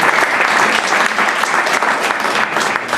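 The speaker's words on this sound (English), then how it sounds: "we should all just give a massive round of applause for Fatima." Sustained applause from an audience at a community launch event, a dense, steady wash of many hands clapping at constant loudness throughout.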